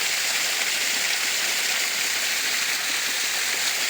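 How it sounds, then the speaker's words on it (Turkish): A natural waterfall pours down from a green mountainside near Kanlıçay, Karapürçek, Sakarya, producing a steady, dense, hissing roar of rushing water that stays loud and unchanging throughout, with no voices. "Doğal bir şelale olmuş."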